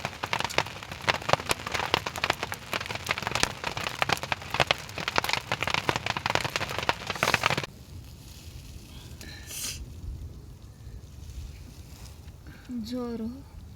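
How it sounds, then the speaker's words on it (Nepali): Large hailstones pelt down in a Nepali village: a dense, loud rattling patter for about eight seconds that then stops abruptly, leaving quiet background with voices speaking. "अहिले चाहिँ असिना आइसकेको छ है, ठुल्ठुला आम्मामा ठुल्ठुला दाना आइरहेछ है"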